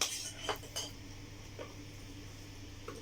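Toy cooking utensils and a toy strainer clink together in a few faint, light metallic taps near the start, followed by quiet.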